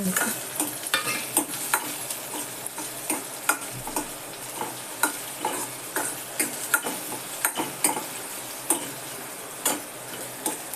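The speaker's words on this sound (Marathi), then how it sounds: "कांदा घालते मी टॉमॅटो" Onion and tomato fry in a pan with a soft steady sizzle, punctuated by regular clicking stirs and taps of a spoon against the pan, close and moderately quiet, with no talking.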